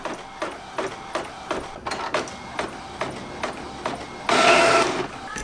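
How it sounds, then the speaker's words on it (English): Sublimation printer feeding 11x17 paper from the top tray: rhythmic mechanical clicks and whirring print-head passes, then a louder burst of feed noise near the end, close up. "I'm going to be printing from the top tray, so I'm going to put it directly straight in just like this"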